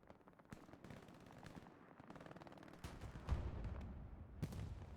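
Gunfire in a Stalingrad match of the World War II video game Hell Let Loose, with rapid semi-automatic shots and bursts crackling at a distance, quiet and dense, with a few heavier nearby reports.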